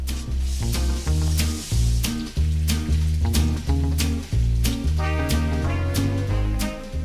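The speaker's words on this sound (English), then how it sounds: "The shrimp and vegetables have transformed into something delicious in the boiling pot of oil." Shrimp, fatsia leaves and bamboo shoots dusted in flour deep-fry in a pot of oil at 180 degrees, giving a steady close sizzle beneath louder rhythmic background music.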